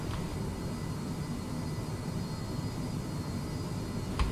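Jet engines of an MD-11 airliner in Microsoft Flight Simulator 2020 give a steady broadband hum and rumble while the plane speeds up during taxi, with a faint tonal whine on top.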